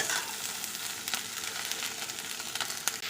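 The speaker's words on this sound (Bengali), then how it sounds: "এবার একটু বেগুনের সঙ্গে ভালো করে নেড়ে নেব।" Drumstick flowers and eggplant stir-fry in a pan, giving a constant close sizzle with occasional scraping strokes of a spatula.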